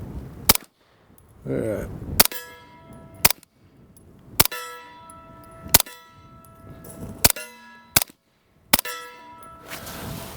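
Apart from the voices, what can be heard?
Grand Power Stribog SP9A3S pistol shots hitting steel plate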